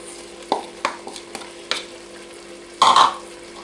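Meat and onion frying in a pot give a soft sizzle under intermittent clattering stirs from a utensil, with a louder, longer burst of scraping and sizzling near the end.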